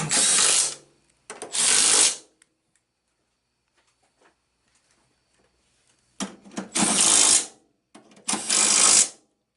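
A ratchet wrench drives the cowling bolts back in on a 2008 Lexus ES350 during a water pump replacement, two quick bursts of rapid clicking, a pause of near silence, then two or three more bursts, loud and close.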